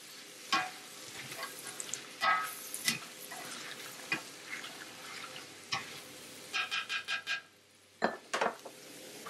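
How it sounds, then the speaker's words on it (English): Onions sautéing with dill, thyme and sweet basil in a pot for clam chowder, giving a soft steady sizzle broken by scattered scraping stirs and spoon clinks against the pot, close and fairly quiet. "Give it a quick stir and wait for the onions to turn translucent."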